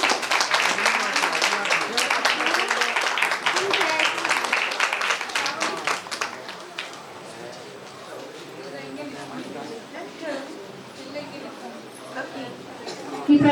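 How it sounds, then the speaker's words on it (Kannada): An audience at the 50th Organic Santhe, a Sunday organic market gathering, breaks into dense clapping for about six seconds. The applause then fades into softer crowd chatter and stray claps, with voices talking throughout. "ಸಾವಯವ ಚಳುವಳಿಗೆ ಸದಾಕಾಲ ಬೇಕು ಅಂತ ಹೇಳಲಾದ ಚಪ್ಪಾಳೆಗಳು"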